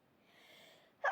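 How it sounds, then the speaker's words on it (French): A single sharp sneeze bursts out near the end after a second of quiet breathy background noise. "Attention, je vais éternuer."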